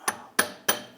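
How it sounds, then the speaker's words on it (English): Three sharp metallic hammer strikes on a punch ring out at an even pace, freeing the rear hub assembly from the differential of a 2009-2017 Volkswagen Tiguan. "Now I'm just going to give a tap right here with a punch just to separate it from the differential."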